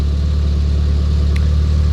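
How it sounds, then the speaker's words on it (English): A 240 car engine idles close by with a loud, even, low drone that holds steady throughout, with no revving and no talk. "240's at least running and idling halfway decent"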